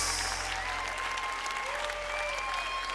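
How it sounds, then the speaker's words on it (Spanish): A congregation at a Christian worship service claps in sustained applause. The clapping is steady and full, with a crowd murmur and lingering musical tones underneath. "dale al Señor un aplauso como Él merece"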